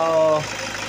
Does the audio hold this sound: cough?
no